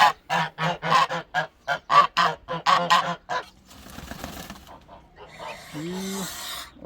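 Domestic geese, a white gander and a large one, honk in a quick rhythmic run of loud, close calls in a poultry yard, then fall quiet before a single later honk.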